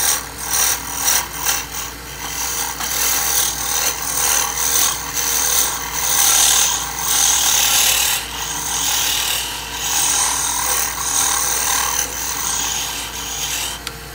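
A wood lathe turning a tenon down toward 5/8 inch, with a steady, close, loud scraping and rasping of the tool cutting the spinning wood, broken by a few rougher bursts early on, and no talking.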